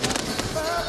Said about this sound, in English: this absolutely cacophonous sound as the fireworks explode above us